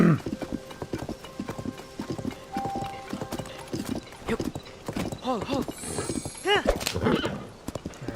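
Horse hooves clip-clopping in Zelda: Tears of the Kingdom, a steady trotting rhythm with a few whinnies near the end, while a voice talks over the game sound.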